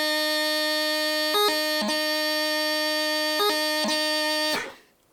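Bagpipe chanter playing a slur on D, a quick grace note then a strike down to low G, comes through loud and alone over a steady drone, with crisp repeated note flicks before the sound cuts off.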